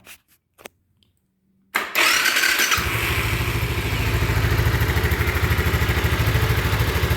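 A 2003 Suzuki Savage 650 motorcycle gives a few soft clicks, then its engine cranks and fires up close by, settling into a loud, steady, pulsing idle that runs to the end.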